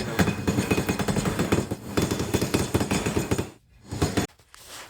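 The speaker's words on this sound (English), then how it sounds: "I'm going to use the ball side of the hammer" The ball side of a hammer peens a rivet head on a Brooks leather bicycle saddle in rapid, loud, close metallic taps, then stops briefly before a few more strikes.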